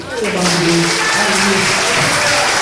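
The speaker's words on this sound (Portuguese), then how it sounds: "Você pode dar suas palmas para ele, querido?" Congregation clapping during a church service, a broad wash of applause heard beneath a loud voice that carries on speaking or singing throughout.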